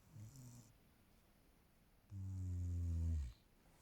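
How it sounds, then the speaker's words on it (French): A donkey snores once in a long, low, harmonic rumble rising to a loud close-up swell, after a fainter short breath sound; no talking. "tu ronfles?"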